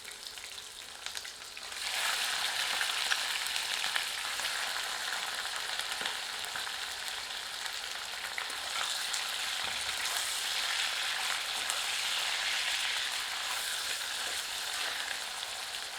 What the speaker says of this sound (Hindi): गर्म तेल में चिकन को डालकर तलते हैं।